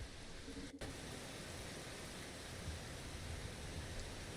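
Steady rain hiss in the Rain World video game, a broad even wash of noise filling the whole stretch with one brief dropout near the start, no talk over it.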